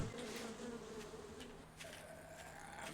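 Buzzing bees in the video game 7 Days to Die, a continuous quiet drone with no talk, holding steady for a few seconds.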